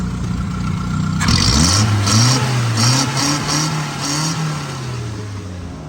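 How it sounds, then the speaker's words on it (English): A Toyota AE86 engine idles at about 800 to 900 RPM, rumbling steadily with a low tone that wavers slightly and rises once, sounding close and continuous. "Here I have the car idling. I believe right now it's at like 800 RPM."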